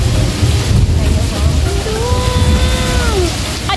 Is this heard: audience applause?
no